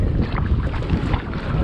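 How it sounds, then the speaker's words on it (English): Choppy lake water slaps against a small boat at Big Bear, the waves churning in an irregular low rumble mixed with gusty wind buffeting the microphone, constant and close with no talking. "There's a lot of waves right here in this area."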